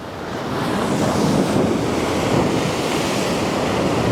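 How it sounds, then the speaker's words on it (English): Ocean waves break and wash continuously onto a beach near a rocky fishing spot, a loud, broad roar swelling in the first half-second and holding steady, with wind buffeting the microphone. "Sort of watch these waves to see what the sets are doing"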